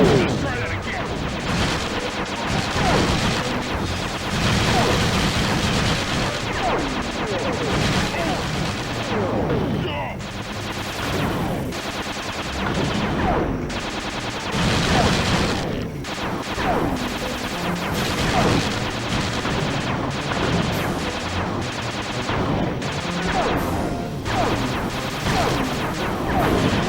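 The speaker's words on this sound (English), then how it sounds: "Shoot down the enemy missiles before they hit you." Relentless video-game gunfire from the Sly Cooper series, shooting down incoming enemy missiles, with dense bursts of shots, blasts and crashes layered over game music for the whole stretch.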